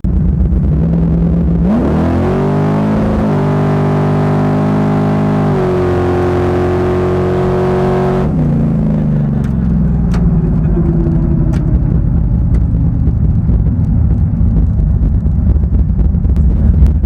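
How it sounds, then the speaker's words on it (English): A 1974 Chevy Nova's engine revs hard under heavy wind noise, its pitch climbing in steps for several seconds before it drops back to a rumbling idle with faint ticks. "Hell yeah, that little motor zings."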